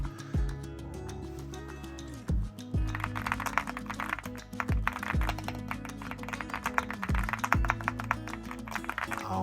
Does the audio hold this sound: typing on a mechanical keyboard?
yes